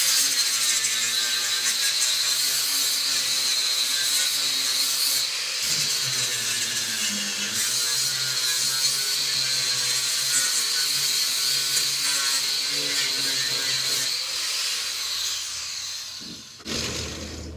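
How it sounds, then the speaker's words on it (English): A flap wheel on a grinder smooths a new custom floor pan on a 1968 Mustang, producing a continuous high abrasive whir that shifts slightly in pitch and stops near the end. "Now using a flap wheel, we'll go ahead and get this smoothed out."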